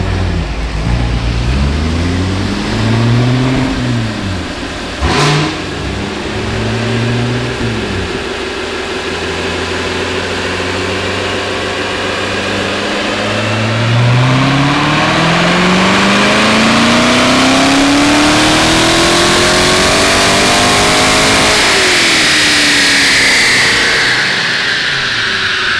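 Supercharged C7 Corvette with headers revving on a dyno, loud engine climbing through repeated rising and falling pulls, ending in a long high-rpm sweep, close and alone without talk.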